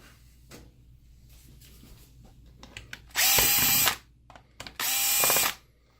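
A power driver opens the plastic housing of a motorized vertical blind controller. Two loud, close whirring bursts of about a second each stand out against quiet handling clicks and rustles, with no talking.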